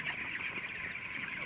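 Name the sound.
chickens clucking on poultry farm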